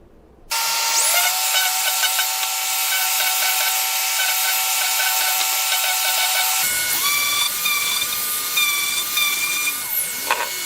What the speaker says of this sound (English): I like to sand down, just bevel these edges on all four corners and on the edges here.